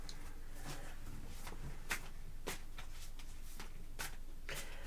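Tarot cards are shuffled in repeated quick riffling bursts, soft and close, with no talk over them.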